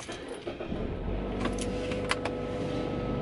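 Steady loud road and engine noise inside a moving car, a continuous broadband rumble with a few faint rattles and clicks on top, no voices.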